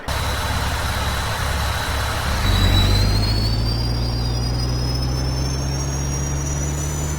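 A truck engine drones steadily in Farming Simulator 19, with a low rumble that swells as the vehicle gets moving, joined by a faint rising whine.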